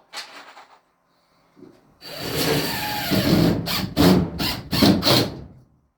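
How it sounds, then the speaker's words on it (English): Power drill driving screws through a wall panel in a workshop being insulated and panelled, a short whir followed by a longer grinding run and several rapid bursts, close and loud. "Stick a screw in there."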